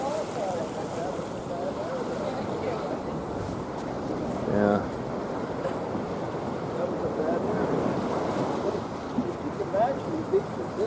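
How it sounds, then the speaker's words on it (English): Ocean waves break and splash against an eroding beach, a steady rushing surf roar with wind buffeting the microphone and a few louder bursts, while a voice briefly speaks over it. "Got some big splashes"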